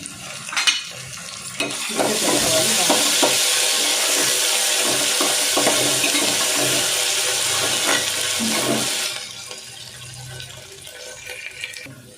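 Ginger garlic paste fries in a pan with a loud, dense hiss that starts suddenly, holds steady for several seconds, then cuts off, with a few clinks of a utensil before and after.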